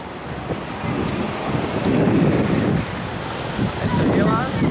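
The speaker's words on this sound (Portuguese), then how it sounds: "As ondas aí." Waves wash and break in a steady roar, mixed with heavy wind buffeting the microphone; no clear voices.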